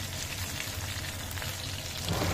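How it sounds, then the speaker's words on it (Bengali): Hilsa fish pieces frying in oil in a pan give a dense, continuous crackling sizzle, close and steady, swelling slightly louder at the very end, with no voices over it. "আমার মাছগুলো একটা পিঠ ভাজা হয়ে গেছে, আমি এটাকে উল্টে দিয়ে আর একটা পিঠটা হালকা করে ভেজে নেব।"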